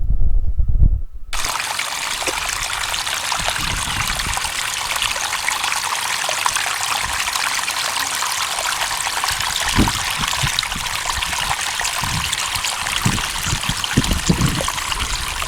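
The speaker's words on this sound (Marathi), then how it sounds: "ऑन द वे एक छोटासा झरासुद्धा लागला त्या पाण्याचा आवाज ऐका" A small stream near a lake by Yavatmal trickles and burbles steadily up close, a continuous bright rush of flowing water with occasional low bumps.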